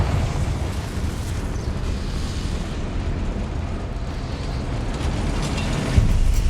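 Confringo fire spell explosion in the video game Hogwarts Legacy, a sustained rumbling blast with heavy low-end roar and crackle lasting several seconds, ending with a sharp thump.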